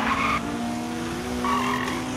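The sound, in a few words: diecast Toyota Supra and Honda Jazz racing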